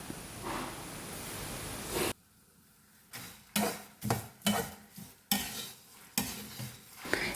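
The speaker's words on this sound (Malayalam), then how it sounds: "ഇളക്കി ഇളക്കി ഇളക്കി മെല്ലെ മെല്ലെ ഇളക്കി എപ്പോഴാണോ കറിവേപ്പില ക്രിസ്പി ആവണത്" Curry leaves being dry-roasted for rasam powder and stirred in a pan: a steady sizzling hiss at first, then a run of sharp, close scraping strokes at an irregular rhythm.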